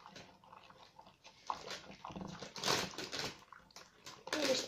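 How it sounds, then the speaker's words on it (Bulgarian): Water is poured into a borax slime mixture and stirred, giving uneven sloshing and squelching swirls that swell and fade, fairly close and moderately loud. "да сложим малко вода и да разбъркаме"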